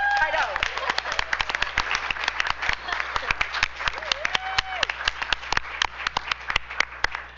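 Sharp, uneven claps from an audience at a school district board meeting, close and fairly loud, scattered across several seconds with a few faint voices and whoops mixed in.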